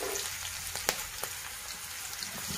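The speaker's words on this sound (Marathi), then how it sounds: "आपलं तेल छान गरम झालं, त्यात मोहरी टाकून घेऊ. मोहरी छान तडतडली" Mustard seeds and asafoetida sizzle in hot oil, making a constant bright frying hiss broken by a few sharp, scattered crackling pops. Close and moderately loud, with no voices.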